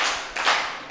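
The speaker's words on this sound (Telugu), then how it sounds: "Very good. క్లాప్స్" Children clapping together during a classroom festival-name game, a few short bursts of hand claps, close and moderately loud with no talking.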